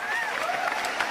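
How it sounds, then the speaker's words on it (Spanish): Audience applause on a TV show, a steady, even wash of clapping with some crowd noise filling the whole short moment at close range. "Aplausos."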